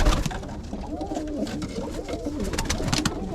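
White New York flying flight pigeons coo softly in their loft, repeated low throaty rolling calls from several birds at moderate distance over faint background noise, with no talking.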